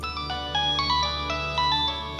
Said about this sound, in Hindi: मम्मी फोन बज रहा है।